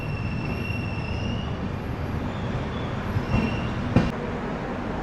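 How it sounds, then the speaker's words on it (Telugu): An Santragachi–Chennai Central AC superfast express pulls into platform 2 at Bhadrak station, a steady close rumble of rolling wagons with a couple of sharp metallic clanks near the end. "భద్రక్కి మన ట్రైన్ ప్లాట్ఫామ్ 2కి అయితే వచ్చింది"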